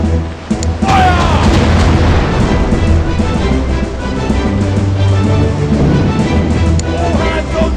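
Ship cannons fire in a naval video game battle, a dense stream of heavy booms and rumbling blasts that stays loud and continuous, with game voices shouting over the barrage.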